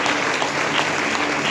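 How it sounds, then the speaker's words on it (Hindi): A church congregation claps together during a worship service, a brief, continuous and fairly loud burst of applause with no voices on top. "इस बात के लिए हम लोग ताली बजाएंगे।"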